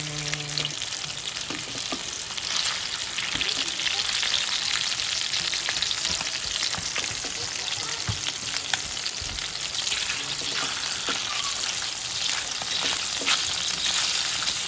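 Egg, hotdog and chorizo fry in oil in a pan, a bright, steady sizzle with scattered pops and occasional scraping knocks as the mix is stirred, no voices.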